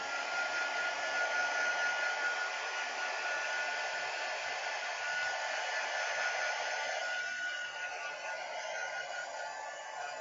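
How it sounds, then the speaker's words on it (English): A heat gun blasts hot air onto a stamped paper card with a steady, fairly loud whooshing drone that continues unbroken. "I'm just going to give it a quick blast with your heat gun"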